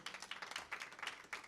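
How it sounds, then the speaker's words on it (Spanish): A church congregation claps in praise, a quick run of light, uneven claps at moderate distance, fairly faint and without voices. "Démosle palmas a nuestro Dios."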